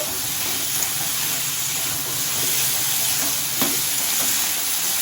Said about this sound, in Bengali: এইবারে আমি এতে একটু আদা দিয়ে দিলাম, তারপরে একটু নেড়ে নেব আদাটা দিয়ে